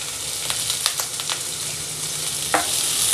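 Chopped onion and grated ginger frying on high flame for veg soya momos make a steady close sizzle, punctuated by several sharp spatula scrapes and taps against the pan.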